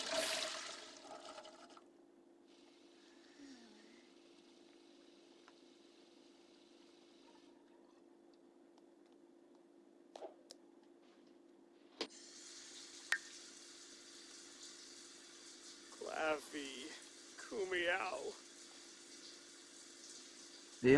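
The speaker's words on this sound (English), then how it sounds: "Okay, take a shower." Water from a shower running in the video game The Claus Family, a steady hiss that starts and stops, with faint clicks, background tones and a brief voice-like game sound midway, fairly quiet overall.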